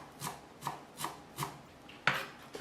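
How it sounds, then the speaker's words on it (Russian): A knife chops a small bunch of dill finely on a board: five or six distinct, evenly spaced crisp strikes, close and clear, with no talking. "Мелко порежу небольшой пучок укропа."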